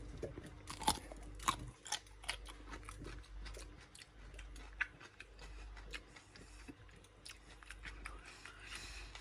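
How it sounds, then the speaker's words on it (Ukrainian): Close, crisp crunching of homemade barrel-style fermented cucumbers being bitten and chewed, a run of sharp wet snaps and crackles repeating over about nine seconds with no talk. "Вони дуже-дуже хрумкі. Тож, це бочкові огірочки."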